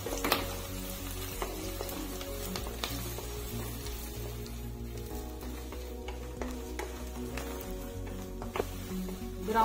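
Chopped onions and cumin seeds frying in oil in a pan for a Bengali country chicken curry, a continuous close sizzle with occasional stirring taps and scrapes.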